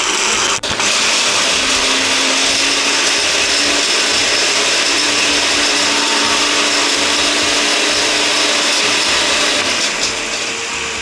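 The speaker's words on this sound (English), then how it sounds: "So I'm going to turn on the blender," A blender set on high churns a tropical cocktail with ice in a loud, steady, close whirring roar that runs continuously without talk.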